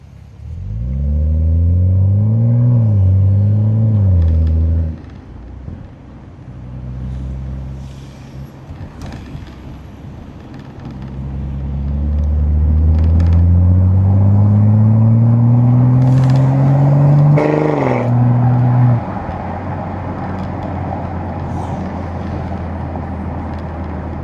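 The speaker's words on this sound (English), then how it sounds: "Let's see if I can do a little rev." A BMW X3 M40i engine idles and blips unevenly for several seconds, drops back to a low idle, then climbs in one long, loud rev before falling to idle again, heard close with no talking.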